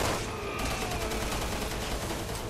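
Dense gunfire in the video game Resident Evil 6, a rapid continuous burst of loud shots forming a sustained fusillade with no pauses.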